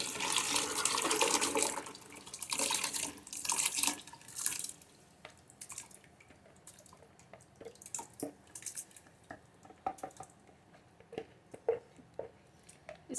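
Soaked mixed lentils tipped into a pot of boiling water for beef haleem: a loud splashing pour for about five seconds, then quieter scattered drips and small plops.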